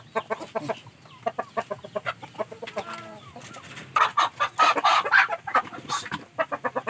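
Aseel chickens in a breeding pen cluck nearby in short rhythmic calls, rising to a louder, busier burst of clucking partway through, with no talk over them.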